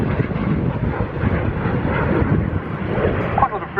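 A BAC Strikemaster jet at the RAF Cosford air show gives a steady, loud roaring rush that holds throughout without break, thick with wind-like noise and no speech.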